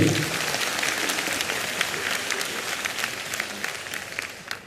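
A stand-up comedy audience applauds in a theatre, a dense, steady wash of many hands clapping that holds for several seconds and slowly tapers off.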